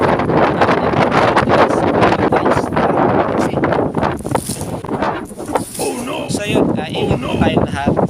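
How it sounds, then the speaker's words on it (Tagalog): Strong wind buffeting the microphone with crashing surf on a Philippine seashore behind it, loud and continuous, with a voice talking over it. "napakalakas ng alon at ng hangin"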